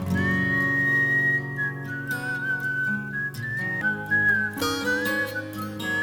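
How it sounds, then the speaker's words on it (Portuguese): Someone whistles a clear, sustained melody, the tone wavering and sliding between pitches, heard alone and fairly close. "Lá ela começa a assobiar"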